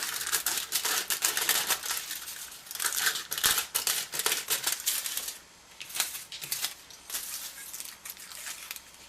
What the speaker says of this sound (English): using your scissors, you're going to cut 2 small strips of aluminum foil